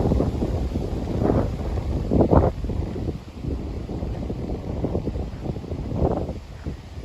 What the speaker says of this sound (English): I think you might have noticed it's a bit windy out here.